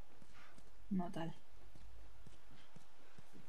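Horse hooves clip-clopping in The Last of Us, a steady run of soft, fairly close hoof beats with a brief louder burst, while a voice speaks quietly.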